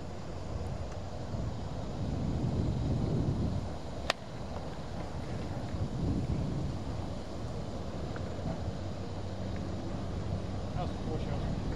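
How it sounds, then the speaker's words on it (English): Strong wind buffets the microphone on a golf course, a constant low roar and rumble with gusty swells, and a brief click partway through. "that wind is relatively strong"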